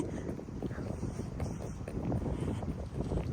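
Wind buffets a microphone outdoors, a loud low rumble with gusty surges throughout and no voices.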